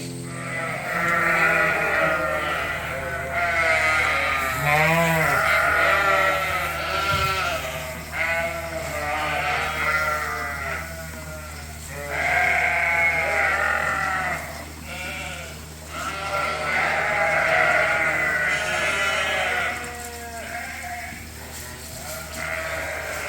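A large flock of sheep bleats at feeding time, many overlapping cries swelling and fading in waves, loud and close, with steady background noise under the din.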